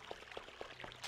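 Water effect from the video game System Shock 2, a quiet series of soft liquid plops and pours repeating at a fairly regular pace.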